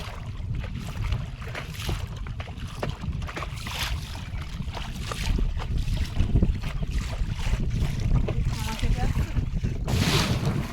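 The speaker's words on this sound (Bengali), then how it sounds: "দূরে কিন্তু একটা ফরেস্ট ডিপার্টমেন্টের যে স্পিড বোট সেটা কিন্তু আসছে এদিকে" A forest department speed boat passes close by on a river, its motor drone rising and growing louder through the second half amid wind noise and water, with people talking over it.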